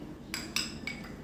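Ice cubes taken from a refrigerator clink together in three quick, bright taps, close but soft and alone.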